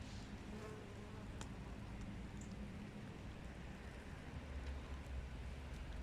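A dense, steady hum of many honeybees buzzing continuously around a hive in September, close and even in loudness, with faint sharper ticks now and then.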